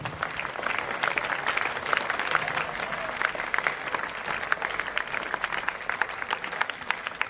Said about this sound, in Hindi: मैं चाहूंगा हम सभी भरपूर तालियों से उसका उत्साहवर्धन करेंगे